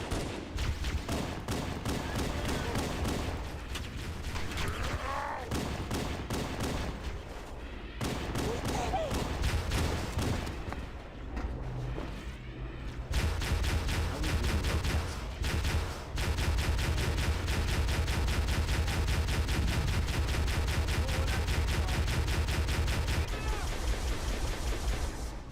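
Video game turret gunfire hammers out in long, rapid bursts with dense repeated shots. There are a few short gaps, and the firing grows louder and more continuous in the second half.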